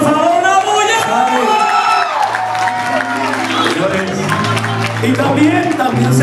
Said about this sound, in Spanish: Aplauso para Sari, por favor, una bulla.